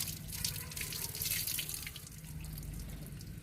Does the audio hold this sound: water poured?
yes